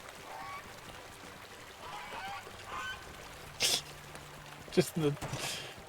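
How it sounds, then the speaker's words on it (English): Swans honk in the Blackroot Vale area of the online role-playing game Lord of the Rings Online, with a few brief honking calls near the end over a soft game ambience and faint background talk. "Do swans honk like geese?"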